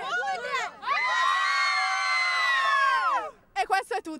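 Girls at a special rugby school event shout a cheer together, a loud, sustained group yell lasting a couple of seconds, followed by a few short bursts of voices.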